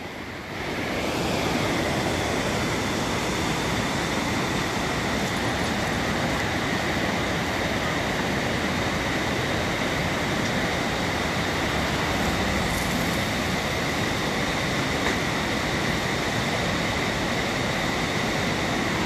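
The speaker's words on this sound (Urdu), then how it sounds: "دریا کی ساؤنڈ سنیے۔ میں تھوڑی دیر خاموش ہوتا ہوں، آپ صرف ساؤنڈ سنیے، لہروں کی آواز سنیے" Waves wash along a river in a steady, continuous roar of rushing water, broad and unbroken with a faint airy hiss, carrying on alone without any voices.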